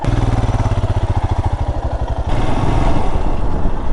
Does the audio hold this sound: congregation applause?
no